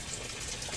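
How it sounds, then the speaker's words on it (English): Water streaming from a roughly 4–5 inch pipe into a tank beside water hyacinth, a continuous broadband gushing rush at moderate level, steady throughout the short moment with no voices. "it just streams out, floods this tank about 6 inches"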